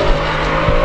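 Another car nearby revving hard with tire squeal during a late-night drive, a short loud burst of engine roar and skidding under steady cabin noise, with no talk.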